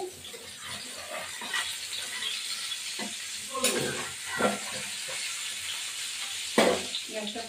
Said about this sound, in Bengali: এবার আলুগুলো ভাজলাম তেল দিয়ে।